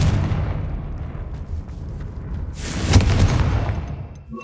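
Confringo fire spell exploding in Hogwarts Legacy, a low rumbling buildup that breaks into a sharp, loud blast partway through, then crackling debris fading away.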